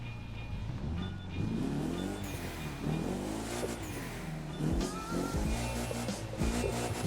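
A Mitsubishi Eclipse GSX in The Crew 2 revs hard through its engine and exhaust, a deep growling tone rising and falling in repeated pulls, loud and close with no talking.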